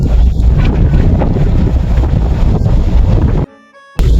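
Strong wind buffets the microphone on the deck of the MV 2GO local cruise ship, a loud, roaring, gusty rush that continues steadily before dropping off abruptly near the end.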